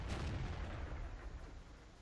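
A tank gun fires at a house in the World of Tanks video game, a faint, muffled low boom that rumbles and fades over a couple of seconds.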